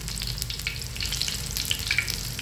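Colocasia leaf vadi rolls frying in hot oil, a steady close sizzle with small crackling pops scattered throughout.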